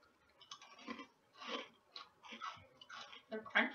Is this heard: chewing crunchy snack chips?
yes